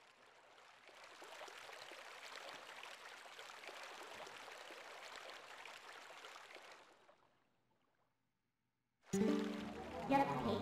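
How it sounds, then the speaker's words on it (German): Flowing water in The Legend of Zelda: Twilight Princess HD: a steady, even rush that runs for about seven seconds, then stops. After a short silence comes a louder, brief tonal sound. "Jetzt ist hier Wasser."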